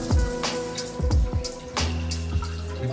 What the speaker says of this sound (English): Shower pressure is adequate.